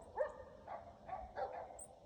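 Several faint, distant dog barks and yips from a neighbor's dog kennel up the hill, coming in a loose irregular series outdoors.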